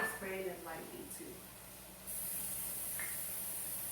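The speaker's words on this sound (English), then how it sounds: "I'm spraying it lightly too" Cooking spray is misted lightly into a baking dish for macaroni and cheese, a steady high hiss starting partway in and running to the end, close and fairly loud, after a brief stretch of talk.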